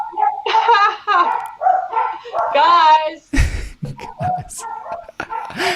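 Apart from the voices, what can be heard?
dogs barking and whimpering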